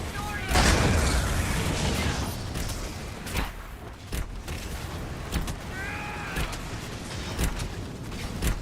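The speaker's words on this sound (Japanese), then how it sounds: "爆発。" A deep booming blast in the fantasy RPG Dragon Age: Inquisition, followed by rumbling combat noise and scattered hits, with a voice talking over the battle.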